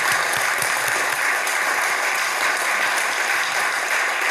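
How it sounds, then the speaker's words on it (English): Audience applause at an evening event with Bill Browder, a steady, dense wash of clapping from a large crowd that holds evenly loud throughout without pause. "A round of applause for Alexander."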